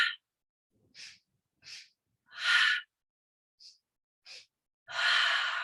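Breathing out during a Pilates mat exercise, with short breathy exhales spaced across the clip and two longer, fuller breaths, each clear and close against near silence.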